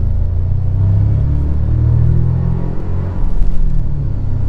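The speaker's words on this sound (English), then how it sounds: "This thing picks up much more torque and a very sharp throttle response" A 2024 Toyota Tacoma TRD Pro pickup accelerates from inside the cab, its engine a deep, steady low rumble that swells slightly near the end, loud and continuous with no talking.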